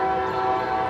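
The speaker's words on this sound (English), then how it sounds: "And I hear the train coming." An approaching train sounds a sustained, steady horn from some distance, a brief tonal blast with layered pitches and no voices.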